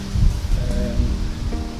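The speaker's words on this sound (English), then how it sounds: "It's a bit windy this morning." Wind blowing outdoors on a morning walk buffets the microphone in a steady, loud, low rumble with rushing gusts throughout, and no voices.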